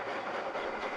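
An old train passing on the line, a steady close rushing roar with broad hiss and rumble, unbroken for about a second.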